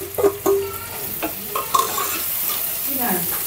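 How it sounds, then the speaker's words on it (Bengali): Ground cumin, coriander, chili, turmeric and salt being stirred into hot oil in a pan, a few sharp knocks and scrapes of the spoon at the start over a steady frying sizzle that carries on alone. "সব কিছু মিশিয়ে নিব একসঙ্গে করে। মশলাটা কষানো হবে"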